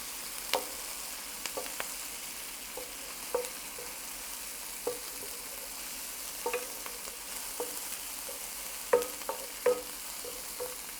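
Vegetables saute in a hot pan for a vegan Mediterranean lima bean dish. A soft, steady sizzle runs underneath, broken by intermittent clicks and knocks as a utensil stirs against the pan.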